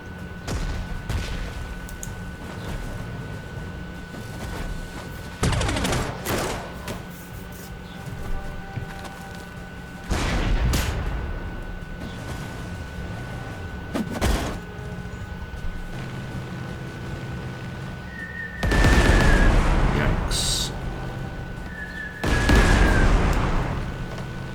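Anti-tank guns and tanks fire in the World War II strategy game Panzer Corps 2, a handful of separate booming shots spaced several seconds apart, the last two heavier and longer, over a low background hum.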